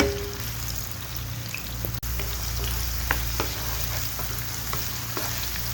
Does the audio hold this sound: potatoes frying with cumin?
yes